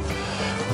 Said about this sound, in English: It's windy, cold today.